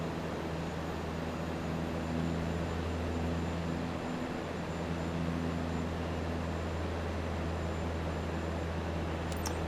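Steady drone of a turboprop airplane engine in flight in Microsoft Flight Simulator 2024, a constant hum with broadband rushing noise at an even, moderate level throughout.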